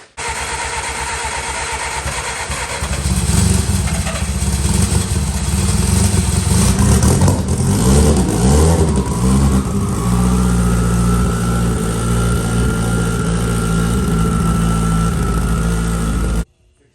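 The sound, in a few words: race car engine starting and running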